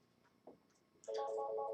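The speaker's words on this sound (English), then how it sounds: "We got phone starting to ring here" An office telephone starts ringing, a steady electronic trill sounding clearly over faint background murmur after a short click.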